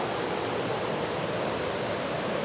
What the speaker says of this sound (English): The water is rolling.